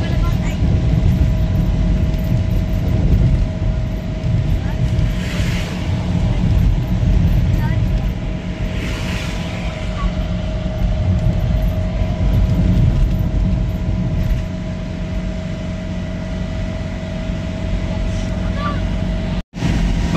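Steady, continuous road and engine rumble from a camper van driving on a road in southern Spain, with voices talking faintly under the constant drone.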